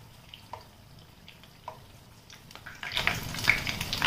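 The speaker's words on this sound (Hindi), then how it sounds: "हम इनके ऊपर चम्मच से तेल डाल देंगे।" Hot oil is spooned over spiced potatoes frying in a pan, giving faint drips and spatters at first, then a loud, sustained sizzle that swells up near and close.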